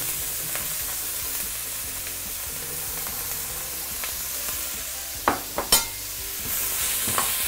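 Bitter melon stir-frying in hot oil in a wok, a steady close sizzle with scraping stirs and a few sharp clacks of the spatula near the end, no voices.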